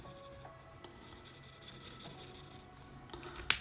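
An Ohuhu Kaala marker in Prussian blue rubs across paper in short, soft strokes while colouring in a drawing, faint and close, ending with a sharper tap.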